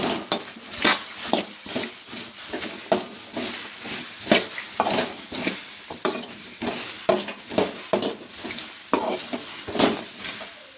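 Okra being fried in oil in a village-style kitchen pan, with repeated scraping stirs and clinks of a utensil against the pan over a soft sizzle, close and fairly steady, no voices.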